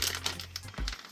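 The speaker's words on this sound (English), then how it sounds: "Next one is your piping bag" A plastic piping bag for making homemade skinless sausage crinkles and rustles up close in a quick, brief handling burst.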